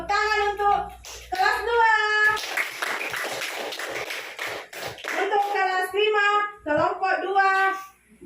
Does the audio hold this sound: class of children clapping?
yes